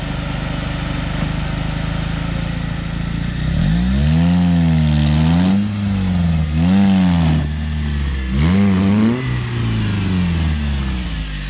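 A car stuck in muddy forest ground revs its engine in three rising and falling bursts over a steady idle, loud and close, with no talk.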